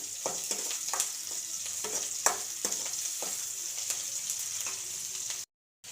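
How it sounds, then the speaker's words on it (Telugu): Green chillies fry in a pan with onions for ridge gourd dal, a soft close sizzle broken by repeated stirring scrapes before cutting off abruptly. "పచ్చిమిర్చి వేయించేస్తున్నాం"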